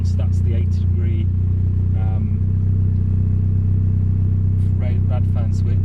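A Honda Civic EF with a turbocharged B18C4 engine idles nearby in a steady, even drone, while someone talks over it.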